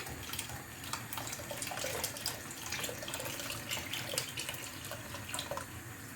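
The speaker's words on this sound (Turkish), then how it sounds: "Şöyle karıştırarak yavaş yavaş dökelim." Yogurt soup mixture for Turkish yayla soup poured slowly into a pot while being stirred, giving a steady, continuous liquid pour with faint splashes and clinks throughout, no voices.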